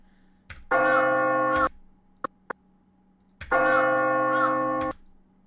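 Two long resonant metallic gong-like tones used as a death sound effect, each ringing about a second and cut off cleanly, with two sharp ticks between them, all alone with no talk.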